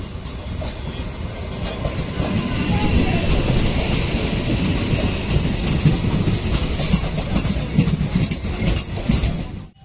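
A train rumbles past near a rail gate at Hatjan Bazar, a loud continuous roar of wheels and rattling wagons that holds steady for about ten seconds before cutting off.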